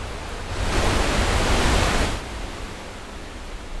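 Rushing waterfall, a broad steady roar of falling water that swells loud for about two seconds before easing back to a softer wash, no voices.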